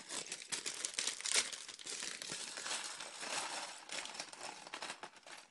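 LEGO Star Wars Kashyyyk Troopers set packaging torn open, with steady crinkling and crumpling of plastic bags and a louder tearing burst near the start, continuing close by with no talk.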